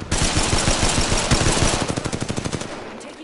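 Sustained rapid automatic gunfire in the video game Apex Legends, loud and continuous for a few seconds, the shots running into a fast rattling burst before trailing off.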